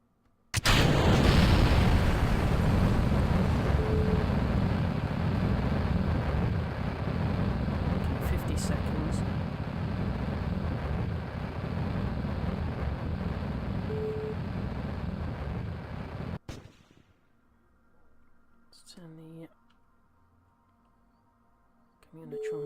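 A loud, steady rocket engine roar from a second stage firing in Kerbal Space Program with Realism Overhaul, running continuously for about sixteen seconds, then cutting off abruptly into near silence with faint clicks.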